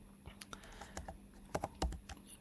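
Typing on a computer keyboard: quiet, close key clicks in an irregular patter with a few firmer taps, over a faint steady hum.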